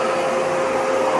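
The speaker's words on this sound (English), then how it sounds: "Now I'm going to show you wet cleaning by this vacuum cleaner." A Kärcher WD5 wet/dry vacuum cleaner runs steadily close by, a loud constant whine with a strong tonal hum, heard alone without talk.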